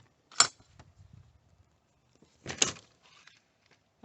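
A door on a 1990 Chinook RV is opened and shut for stepping inside, giving two sharp clacks about two seconds apart with faint rustling between them, close by.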